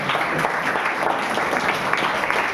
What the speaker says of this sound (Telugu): చప్పట్లు కొట్టరే వాళ్ళ